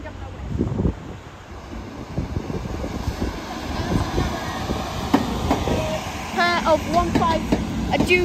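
A Transport for Wales passenger train rumbles and clatters out of a platform, wheels clicking over rail joints, with wind buffeting the microphone and a voice speaking briefly.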